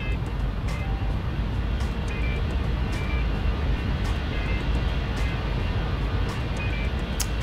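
Exterior engine sound of an Airbus A320 in the X-Plane flight simulator, a steady broadband jet roar at moderate level, broken by faint intermittent clicks.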